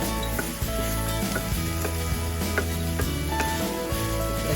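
Frozen vegetables cook in a covered pot with oxtail, a steady close sizzle and frying crackle running throughout with faint stirring ticks and no talking.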